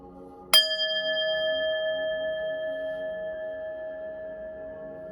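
A single small bell is struck once before a tarot reading, a bright clear ding that rings on with a long sustained shimmering decay in an otherwise quiet room.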